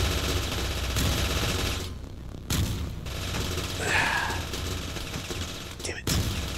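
Rapid bursts of gunfire from the top-down shooter video game Teleglitch, loud and dense throughout, with brief pauses between volleys and a sharp shot near the end.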